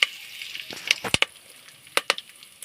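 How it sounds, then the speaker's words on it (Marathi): Curry leaves and cumin seeds crackle in hot oil in a pot, with a soft steady sizzle and several sharp pops and spits scattered across the moment, close and fairly loud. "इथे टोपामध्ये तेल तर त्याच्यामध्ये मी कढीपत्ता आणि जिरं टाकून घेते"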